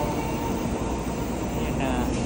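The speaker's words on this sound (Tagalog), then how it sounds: "ayan po yung bullet train. Namin sinakyan. Back to Tokyo." A Japanese Shinkansen bullet train bound for Tokyo makes a steady, loud, continuous rumble and roar throughout, heard from close by as the train runs.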